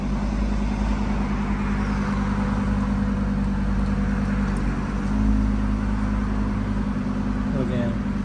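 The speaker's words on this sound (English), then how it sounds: "this car sounds amazing" A Lamborghini Huracan engine runs steadily at close range with a deep, constant rumble, with a voice faintly present over it.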